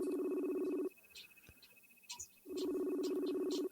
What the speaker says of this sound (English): Y'all hear the phone ringing?